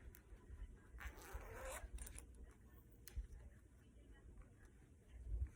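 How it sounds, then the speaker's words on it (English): The zipper on a compression garment is drawn up in one quick close rasp, followed by faint rustling. "This one right here zips up."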